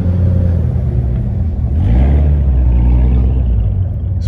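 Big American V8 cars rumble and rev loudly nearby, a deep continuous engine roar that swells in pitch around the middle before settling back to a steady throb.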